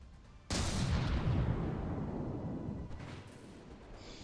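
A mass driver weapon in a space strategy video game fires with a sudden heavy boom, then a long rumbling roll of rapid impacts that slowly fades, with a second softer burst near the end.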